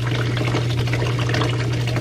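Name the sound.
6-inch water siphon breaking and draining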